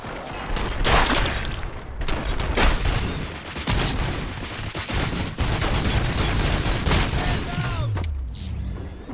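Heavy gunfire in the RoboCop video game: dense bursts of automatic shots and booming blasts that fire almost continuously, loud and close, with mechanical clatter mixed in near the end.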